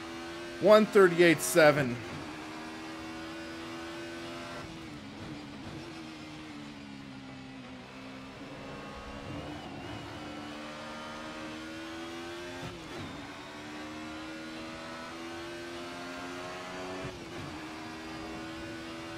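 A 1990s DTM touring car engine in a racing sim at Donington Park, revving hard at first, then holding a steady droning whine that rises and dips as the throttle is rolled on, with someone speaking briefly over it.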